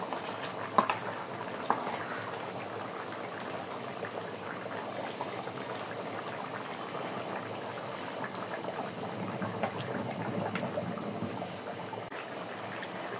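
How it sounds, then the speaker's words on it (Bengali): Fish curry broth for hilsa with taro stolons bubbles in a pot, a steady close simmering burble with soft popping bubbles and a couple of brief clinks early on, no voices. "ঝোলটা ফুটে উঠছে, এখন মাছ দিয়ে দেবো।"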